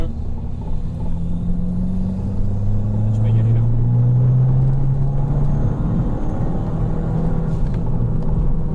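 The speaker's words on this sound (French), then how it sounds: "Là, on va faire une petite accélération." A Fiat 500 Abarth engine accelerating, a low droning rumble that rises in pitch as the car pulls, heard from inside the cabin with people talking over it.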